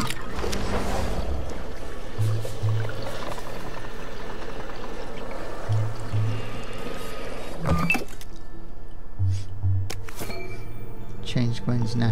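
Water being filtered in the We Happy Few video game: a short liquid pouring and filling sound over steady game music and ambience, with low musical tones recurring throughout.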